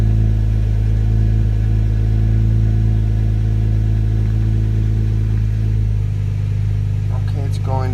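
A Kia Stinger GT idles just after a cold start with freshly installed Denso IKH27 spark plugs, a steady close engine hum that drops in pitch about six seconds in, followed by a brief voice.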